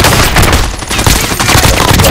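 Incoming gunfire in Call of Duty: Modern Warfare, a loud, relentless crackle of rapid automatic shots and overlapping bursts filling the whole moment without pause.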